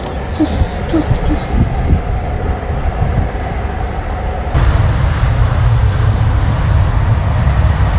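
European high-speed train passing by, a loud continuous rushing roar of air and wheels that deepens into a heavier rumble partway through, with no pause.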